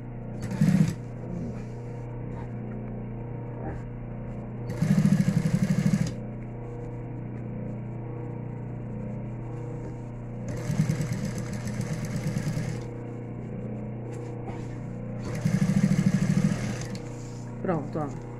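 A sewing machine topstitching over a fresh seam on a thermal lunch bag runs in several short bursts, each a couple of seconds long, over a steady low hum. Separate stretches of talk come between the runs.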